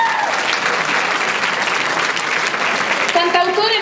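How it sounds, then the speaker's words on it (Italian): Audience applauding as a Neapolitan singer-songwriter is introduced at a music event, sustained dense clapping throughout, with a voice and a brief tonal sound emerging near the end. "Un applauso."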